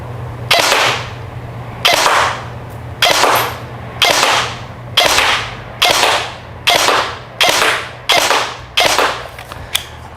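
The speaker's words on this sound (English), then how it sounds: "Ten shots to the head." G&G G2 SR30 airsoft pistol firing at a target 25 feet away, a series of about ten sharp, loud cracking shots spaced roughly a second apart, each with a short decaying tail over a faint steady hum.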